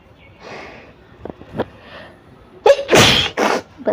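Sneezing challenge: a soft sniff and small gasps build up to one loud, close, explosive sneeze and a trailing exhale.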